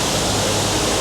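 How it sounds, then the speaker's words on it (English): A waterfall cascades into a plunge pool in a green bowl-shaped gorge, heard as a dense, steady rushing hiss of falling water, loud and close, with no voices. "the waterfall and the cascade coming down in the plunge pool"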